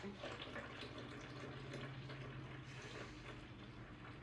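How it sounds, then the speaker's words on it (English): Water runs steadily into a container while making keto milk, a continuous splashing gush that stays even and fairly quiet throughout. "Now we're going to put our water in."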